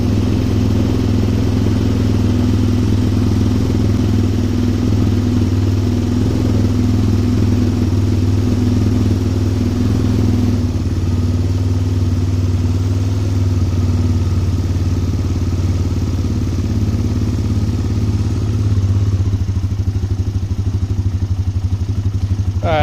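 A Suzuki LTZ400 ATV engine, recently fitted with a Chinese replacement carburetor, runs steadily with a low, loud droning idle and mechanical clatter throughout.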